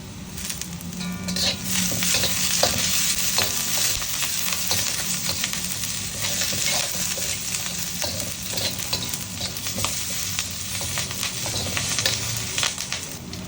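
Mushroom gravy ingredients sautéing in a pan with curry leaves to follow, a loud dense sizzle with constant stirring scrapes and utensil clatter, close and continuous throughout, no voices.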